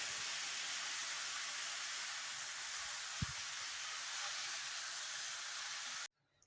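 Fenugreek leaves (methi bhaji) sautéing in a pan, a steady hissing sizzle with a single soft clink partway through, stopping abruptly near the end.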